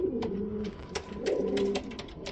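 A Lahori pigeon coos close by in a series of low, rolling coos with short pauses between them, along with faint clicks and rustling.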